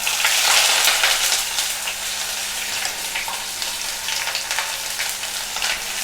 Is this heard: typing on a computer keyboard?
no